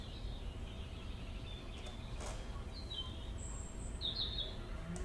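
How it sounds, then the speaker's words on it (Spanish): Faint, scattered reed warbler chirps and short warbling phrases sound over a low rumbling background, distant and intermittent. "los carriceros."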